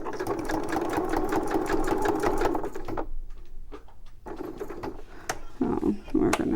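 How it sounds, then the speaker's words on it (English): A sewing machine runs a straight stitch in a fast, even rhythmic whir for about three seconds, stops briefly with small mechanical clicks, then resumes in short bursts, with a voice speaking at times. "And then I'm going to do straight stitch the rest of the way."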